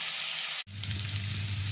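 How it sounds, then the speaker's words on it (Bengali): Onion with a little salt frying in oil after a cumin tempering, a bright continuous sizzle close up, briefly cut off by an abrupt break before resuming with a low rumble underneath. "পেঁয়াজটা ভাজা হয়েছে,"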